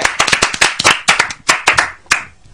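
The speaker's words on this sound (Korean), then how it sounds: "박수로 전해드리겠습니다." A small group claps in uneven bursts, loud and close, the applause fading out toward the end.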